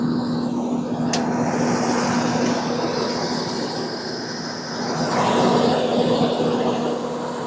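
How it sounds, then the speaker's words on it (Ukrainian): Steady idling drone of a CLAAS Mega 208 combine harvester's Mercedes engine on a cold start, a constant low hum with a faint tonal whine, close and unbroken throughout. "працює двигун, що буде чути"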